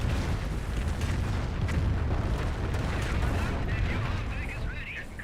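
A rocket barrage in Company of Heroes, a dense rolling mass of booming impacts and crackling blasts that stays loud and unbroken throughout, with no pause between explosions.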